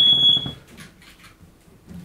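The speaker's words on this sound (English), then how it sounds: "that's the Ron Dennis alarm going off again" A smoke alarm in a home shrills with a loud, high electronic tone for about half a second, then cuts off, leaving only faint room noise.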